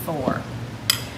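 A metal spoon clinks and scrapes while scooping lard from a tub for homemade biscuits, a short close clatter with one bright metallic tap near the end.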